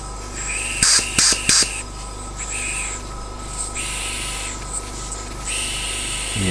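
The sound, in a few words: air leaking from V-twin engine inlet valve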